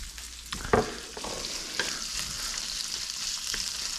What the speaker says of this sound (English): All right, so now we got this frying up pretty well.